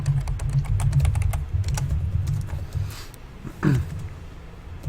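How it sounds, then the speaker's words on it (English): Typing on a computer keyboard during a hardware livestream, a quick run of clicking keystrokes over a low hum, with a short swooping sound partway through. "He's typing it in right now."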